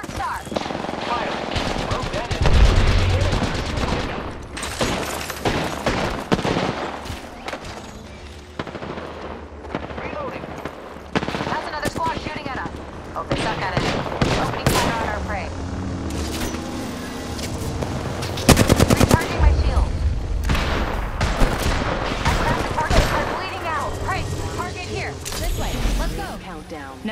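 Gunfire in the battle-royale game Apex Legends, with loud, near automatic bursts and single shots crackling in irregular clusters over game music and effects, with in-game voice lines now and then.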